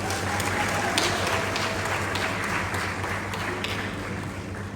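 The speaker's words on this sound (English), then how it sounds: "And for the powerful women of Africa, please, a round of applause." An audience at a formal gathering honoring powerful African women applauds steadily, a continuous wash of clapping over a low hum from the room's sound system.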